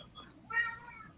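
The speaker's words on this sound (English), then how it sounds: "And yeah, sorry about the cat, guys. He's decided to go berserk." A male cat gives a single loud, drawn-out meow near the microphone, rising sharply in the middle, with a low background rumble and no talk.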